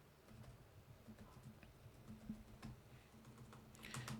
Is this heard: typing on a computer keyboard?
yes